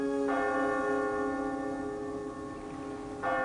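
A town clock bell tolls in a cartoon morning harbour scene, two ringing strokes about three seconds apart, each leaving a long, humming resonance that fades between them.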